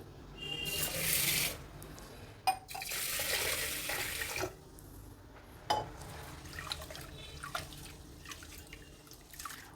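Fresh water pours from a tap onto rice and lentils soaked for uttapam batter, coming in steady gushing bursts broken by short pauses and clinks of the vessel, fairly close and with no talking.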